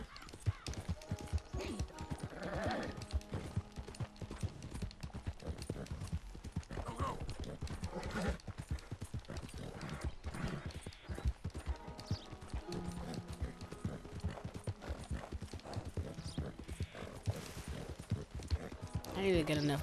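A horse's hoofbeats in the video game Red Dead Redemption 2 clip-clop steadily throughout, with a voice talking over them on and off and occasional background music.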